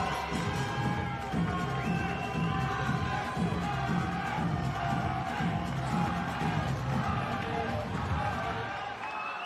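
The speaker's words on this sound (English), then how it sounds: "Folks, one more round of applause." A fight-night crowd at a women's professional boxing main event cheers and applauds in a steady, dense roar throughout, with shouts and whoops mixed in.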